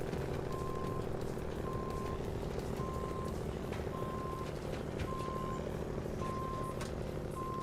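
Truck reversing in a truck simulator game, a steady series of evenly spaced electronic reversing beeps, about seven of them, repeating over a constant engine drone with no one talking.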